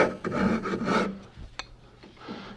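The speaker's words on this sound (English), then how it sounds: "the other saw's best friend is the rasp. And you can break those edges." A woodworking rasp files and breaks the edges of a wooden workpiece, producing a burst of rough rasping strokes in the first second, then a few softer scrapes and taps.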